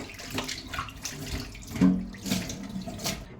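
Hands splashing and rubbing in water at a sink after cleaning mathi sardines, with broadband sloshing and small clinks coming close and fairly loud for about three seconds, alone without talk.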